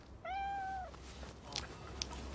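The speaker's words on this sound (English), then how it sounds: "Mrs. Higgly Piggly's cat stuck up this tree." A cat stuck up a tree gives one clear, drawn-out meow, fairly close and alone, followed by a couple of faint ticks in a quiet outdoor setting.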